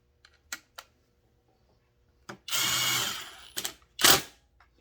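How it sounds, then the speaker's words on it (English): A power driver whirs in a few short bursts, one longer run of about a second, while screws go back into a Stihl MS 201T chainsaw, with light clicks and handling taps between the bursts. "Put our screws back in."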